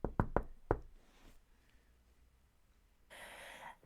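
Quiet, meek knocking on a door: four quick soft raps close together, followed by near silence and then a brief breathy hiss.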